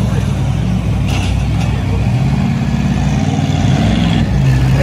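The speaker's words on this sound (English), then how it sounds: "This is the loudest tractor I know of with two engines." Loud, steady roar of a twin-engine pulling tractor at a tractor pull, rumbling continuously at close range, deep and droning, with some talk blended into the noise.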